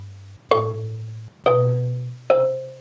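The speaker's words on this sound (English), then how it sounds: "this is an instrument where these are essentially tuned marimba bars," Tuned marimba bars over gourd resonators ring out in three separate struck notes, each with a bright attack and a warm, sustained decay, close and clear with no talk.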